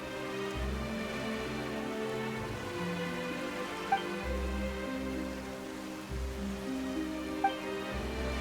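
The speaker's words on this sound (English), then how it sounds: "Why is it raining all of a sudden?" Sudden rain in the video game Genshin Impact, a steady soft patter of drops over a low sustained musical score, with a couple of faint chime-like accents.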